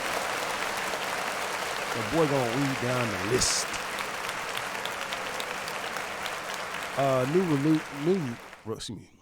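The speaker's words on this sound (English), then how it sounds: "But clap it up." An audience claps steadily in a dense wash of applause, with someone talking over it in a casual podcast setting.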